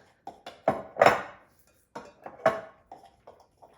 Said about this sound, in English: You want to give it a good stir until all of those chips are completely melted in there